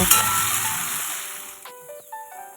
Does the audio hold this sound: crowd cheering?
no